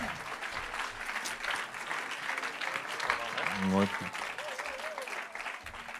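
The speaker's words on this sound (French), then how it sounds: "attention, on peut les applaudir" A live audience applauds at a performance event, sustained clapping and crowd noise with voices speaking and exclaiming over it.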